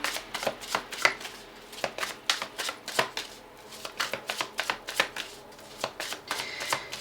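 Tarot cards being shuffled in quick riffling bursts, a rapid series of crisp flutters repeating close by, with no voices.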